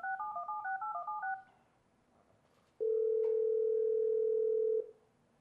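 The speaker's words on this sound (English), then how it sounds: "I'll just hit the callback key here." A Cisco IP phone plays a quick run of DTMF keypad tones for about a second and a half, then after a short pause a steady, loud single ringback-style tone holds for about two seconds before cutting off.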